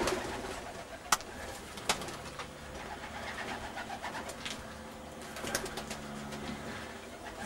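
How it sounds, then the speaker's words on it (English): Tippler pigeons coo softly in a loft amid a busy outdoor background, with a few sharp flutters or clicks and a faint engine hum underneath. "That's Davy's loft. He's about to build a new one, but his birds are absolutely out of sight"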